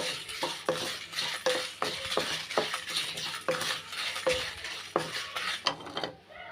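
Coriander seeds and dried red chillies dry-roasted in a pan, stirred with a utensil in a steady rhythm of scraping strokes and rattling seeds, close and moderately loud, no voices.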